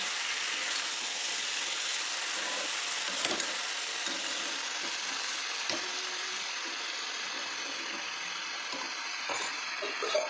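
Vegetables sizzle steadily as they are stir-fried with spices in a pan for a Bangladeshi-style dried fish dish, a dense continuous frying hiss with occasional scrapes and small clicks, close and fairly loud, with no voices.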